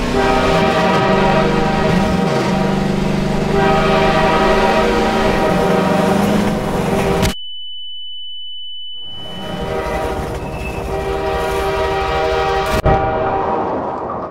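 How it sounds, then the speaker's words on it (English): A train in the video game Half-Life rushes at the player, its loud rumbling run and blaring horn filling the opening seconds, then a sudden cut to near silence with a steady electronic tone before the train noise resumes, with no talk. "Gordon can move on, but not before a train tries to annihilate him"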